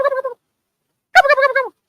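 A man imitates a turkey gobble live at an oyster bar, two loud, close, rattling gobbling bursts separated by a short silence.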